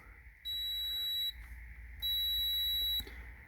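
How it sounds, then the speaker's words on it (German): A multimeter in continuity mode sounds two steady, high-pitched electronic beeps, each about a second long with a short gap between, while its probes are touched across an 18650 lithium battery cell in a quiet room. "Um den Durchgang zu prüfen, müsst ihr mit dem Minuspol auf den Pluspol und dann sollte es piepsen."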